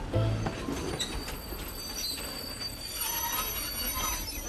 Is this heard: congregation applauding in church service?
no